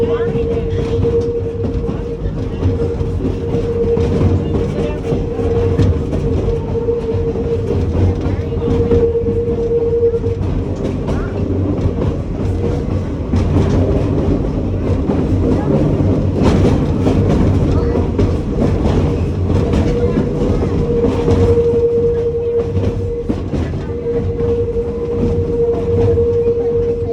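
A train rolls along a rail line leading in and out of the San Francisco Bay Area, giving a steady close rumble with a sustained tonal hum throughout and faint clatter beneath.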